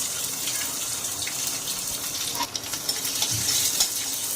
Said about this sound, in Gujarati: તેલ ગરમ થઈ ગયું, રાઈ, જીરું, તલ ને પછી તરત નાખી દઈશું લીલા મરચાં